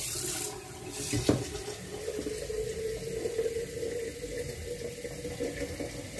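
Water runs steadily from a tap for a lemon slush recipe, a close, continuous splashing stream with a brief clunk early on and no speech over it.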